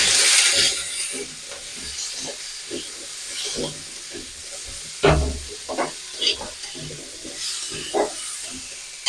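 Green papaya with salt and turmeric is stirred in a pan, quiet hissing under scattered scraping and clinking strokes, with a sharper knock near the middle and faint background sounds.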